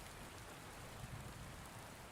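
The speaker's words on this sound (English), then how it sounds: "The storm broke over the house, rain lashing against the windows and sheets." Steady storm rain drums against windows of a house in a continuous, even wash of sound with no voices.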